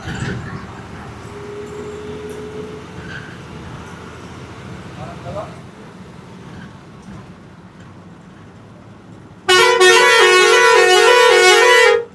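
A bus horn on a Surat to Dhanera coach sounds one long, loud, steady blast near the end, after a stretch of muffled traffic and engine rumble with people talking in the background.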